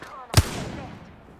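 A single sharp gunshot in the Apex Legends shooter, a loud crack followed by a fading echoing tail, with faint voice-like game sound just before it.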